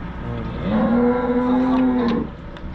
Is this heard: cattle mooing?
yes